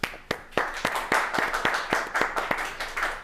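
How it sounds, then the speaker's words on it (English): A studio audience at a daytime courtroom talk show claps after a birthday song. The claps are sharp and fairly close, forming a brisk rhythmic run of about a dozen distinct hits from a small group. "We're gonna clap for that"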